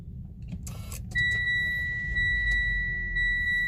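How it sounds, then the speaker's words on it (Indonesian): A 2019 Nissan Livina VL automatic started by push button with foot on the brake: a brief click and starter whirr, then the engine catching into a steady low idle alongside a sustained electronic chime tone. "cukup kita injak rem dan tekan tombol start stop engine button di sini untuk nyalakan mesinnya"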